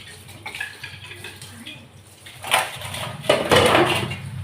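Tap water runs at a low trickle while dishes are washed, with soft splashing and a few louder clatters and gushes toward the end.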